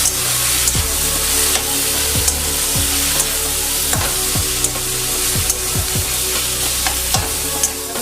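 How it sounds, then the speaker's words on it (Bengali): Cumin powder and red chilli powder fry in hot oil in a pan for palak paneer, giving a loud, continuous close sizzle broken by periodic scraping strokes of a stirring spoon, with no talk. "এবার একটু কষিয়ে নেবো।"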